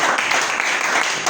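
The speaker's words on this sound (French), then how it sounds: "Acclamez pour la parole." Church congregation applauding together, a dense, steady burst of clapping from many hands filling the room for a brief moment.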